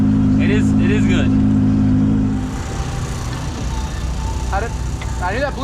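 Drag racing cars accelerating down the strip, one a blue car and one twin-turbo big block: a loud steady engine drone that fades after a couple of seconds, with people talking over it.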